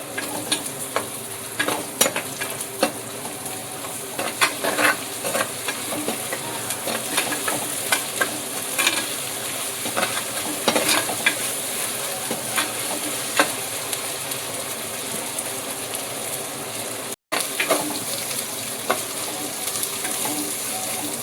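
Pieces of country chicken sizzle in a pan with onion and ginger, a steady, close frying hiss punctuated by repeated scraping and stirring clicks, with a brief dropout near the end.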